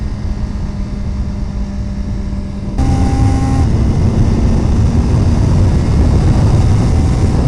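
A 2017 Suzuki GSX-R1000R motorcycle engine at about 6,000 RPM, heard loud and close with a steady drone, then a sudden step up in pitch and volume as it shifts from third gear down to second.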